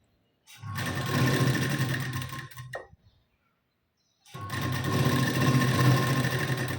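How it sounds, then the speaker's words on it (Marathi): A sewing machine stitching the waistband of a blouse in two long, steady runs of whirring needle strokes, loud and close, separated by a brief pause and a light click. "पूर्ण कमरपट्टीला मी अर्धा इंचाची शिलाई मार्जिन घेऊन शिलाई देऊन घेते"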